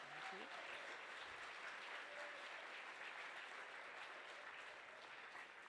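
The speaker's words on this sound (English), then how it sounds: "Please give them a round of applause." Sustained applause from a gala audience fills the room, a dense, steady wash of clapping that holds at an even level throughout with no break.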